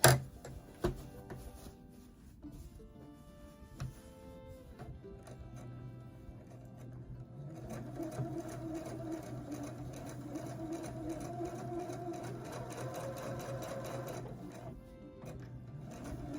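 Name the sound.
Husqvarna Viking sewing machine embroidering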